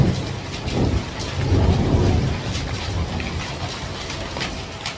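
Heavy, large hail pounds a house roof during a storm, a dense, continuous loud rattle and hiss with low rumbling thunder swelling through the middle, close and unbroken.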